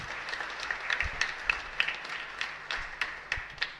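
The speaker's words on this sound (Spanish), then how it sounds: "un fuerte y caluroso aplauso para ustedes" A church congregation applauding, light scattered clapping heard from a distance, sparse and uneven over a few seconds.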